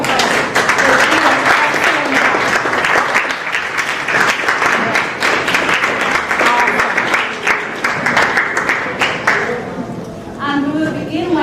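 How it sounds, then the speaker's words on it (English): Loud, sustained audience applause at a summer robotics camp exhibition ceremony, dense clapping from a crowd lasting several seconds before fading, with a voice speaking at the end. "I wanted to give everyone on the stage a round of applause."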